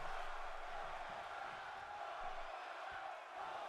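A wrestling crowd reacts in an arena after a spear finisher: a continuous, distant roar of many voices, steady and washed out, with no single voice standing out.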